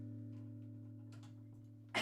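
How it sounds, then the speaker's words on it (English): A sick violinist's cough bursts out suddenly near the end, loud and close, after a steady hum of sustained violin or background tones. "I feel so bad people have to hear me cough"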